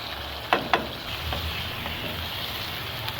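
Meat cooks in a pot of Urdu-style badami korma with turmeric, red chili and coriander powders. A steady, close sizzle of frying runs throughout, broken by a few sharp clicks and scrapes from stirring.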